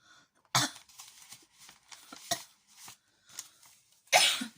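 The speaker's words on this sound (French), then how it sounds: "excusez-moi de tousser" A woman coughs several times at close range, with a sharp burst at the start, smaller throat-clearing coughs in between and another strong cough at the end, against an otherwise quiet room.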